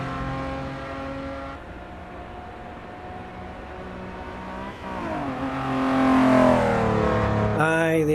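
A Datsun car driven in the racing game Assetto Corsa EVO: a steady engine drone with harmonic whine that climbs into a louder, rising rev near the end, then a brief shift in tone.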